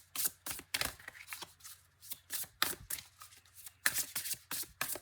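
Tarot cards being shuffled, a series of crisp riffling bursts in an uneven rhythm, close and fairly quiet, with no talking.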